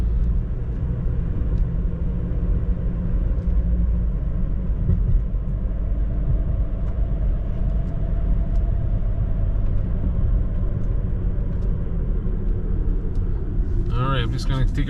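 A Toyota Corolla drives at steady speed with a constant low engine and road rumble from inside the cabin, and a brief burst of noise near the end.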